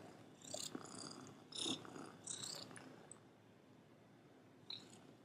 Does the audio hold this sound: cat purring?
yes